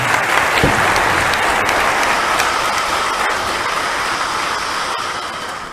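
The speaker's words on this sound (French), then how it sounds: "Je vous demande de les applaudir, s'il vous plaît." Sustained audience applause fills a conference hall in Burkina Faso, a dense, steady wash of clapping that holds at an even loudness throughout and tapers slightly toward the end, with no voices rising above it.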